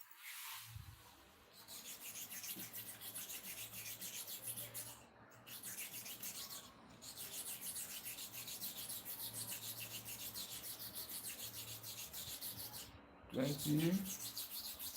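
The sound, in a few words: sharpening clipper blades on a stone with oil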